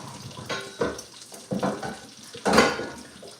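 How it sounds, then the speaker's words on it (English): Boiling water is poured away into a kitchen sink while bacon cooks nearby, giving a few splashing, hissing surges that build to a louder rush near the end, with no talking. "We're done with this boiling water, so I'm going to just get rid of it."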